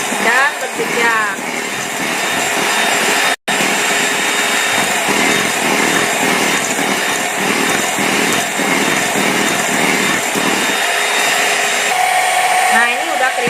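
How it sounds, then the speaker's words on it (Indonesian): Electric mixer beating marble sponge cake batter, whirring loudly and continuously up close, with the beaters rattling against the bowl and one very brief cutout. "Saya akan matikan mixernya."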